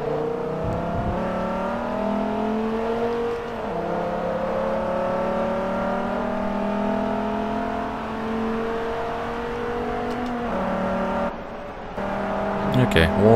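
Dodge Viper ACR track-day car racing in Forza Motorsport 3, its engine droning steadily at high revs with shifting pitch through gear changes, loud and continuous under a commentator's talking.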